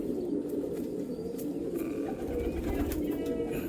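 Golden-eyed pigeons coo in a low, continuous murmur from several birds close by, with faint wing rustles and a few brief higher chirps over the steady throaty calls.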